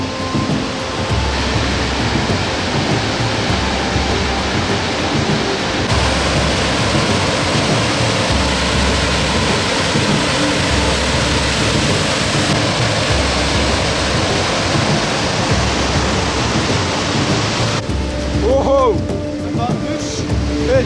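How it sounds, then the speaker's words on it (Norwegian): Rain falls on a rocky mountain trail, a dense, steady, close hiss that continues without letup. "Her regner det."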